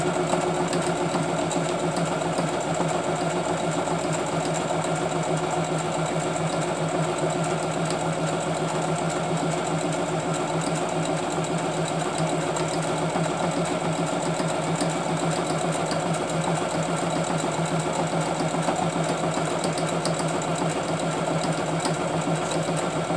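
A sewing machine stitches fabric with a steady, continuous mechanical whir and rapid needle chatter that holds even and loud from start to finish, with no voices.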